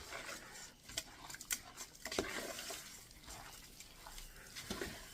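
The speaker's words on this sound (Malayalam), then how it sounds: "ഇത് നന്നായിട്ട് ഇളക്കണം" Beef being stirred by hand into a Kashmiri chilli powder marinade in a bowl, with soft wet squelching and scraping sounds in irregular bursts, fairly faint and close, with no talking.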